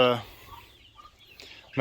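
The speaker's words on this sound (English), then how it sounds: "There's the other chickens." Month-old chicks and older chickens cluck nearby at a chicken coop in short bursts at the start and end, with quiet soft sounds in between.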